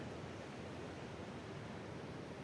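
Water cascades steadily down a woodland stream beside the Allegheny Trail, a soft, even rushing hiss heard from a short distance with no other sounds.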